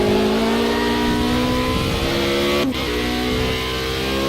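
A Formula Renault 3.5 race car engine in a racing video game, driven at Laguna Seca, holds a loud steady high drone, then drops sharply as the car shifts down and settles into a lower, slightly easing pitch.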